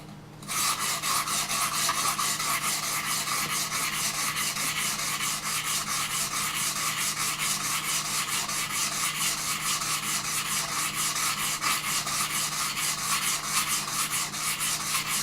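A steel knife blade is drawn repeatedly across a sharpening stone, a steady, fast rhythmic rasping scrape that continues without pause, close and fairly loud, with no voices.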